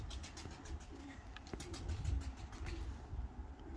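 Pigeons cooing nearby in low, throaty murmurs that overlap and repeat, with a faint engine hum in the background.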